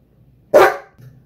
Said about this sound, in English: So I have to pause because Tonto wants a dog treat.